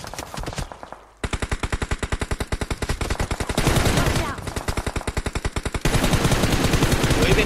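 Rapid automatic gunfire fills a shooting video game in long, loud, tightly spaced bursts with brief pauses. Faint voices sit underneath.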